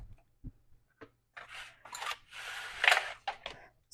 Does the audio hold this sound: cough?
no